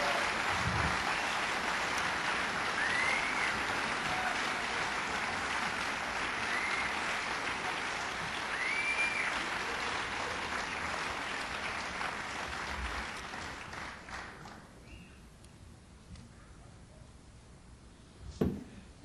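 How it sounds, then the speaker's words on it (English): Concert audience applauds a blues musician at the World Music Institute in New York City, a sustained mid-distance ovation that gradually thins and fades to near silence, ending with a brief thump. "could we have a nice round of applause for Mr."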